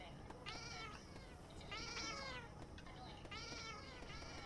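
A cat meows repeatedly indoors, four drawn-out, insistent calls coming close and loud over a steady low household hum.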